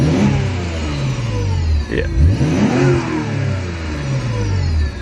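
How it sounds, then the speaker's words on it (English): A turbocharged Nissan Skyline's engine revs up and down while driving, loud and close from inside the car, with rising and falling pitch sweeps; a brief voice is heard mid-clip. "Your turbo sounds like kind of a supercharger."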